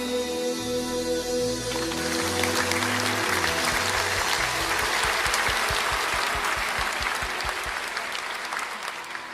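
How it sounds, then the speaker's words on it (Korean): A church congregation claps together at a New Year's Eve service, sustained applause rising over fading music, then steadying into a rhythmic unison beat before easing off. "하나님께 감사의 박수로 큰 영광 올려드리겠습니다"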